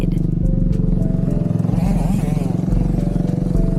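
Dirt motorcycle at Burnt Ridge hitting a bump while turning, a steady close engine drone with a brief clattering jolt midway, continuous throughout with some talk over it.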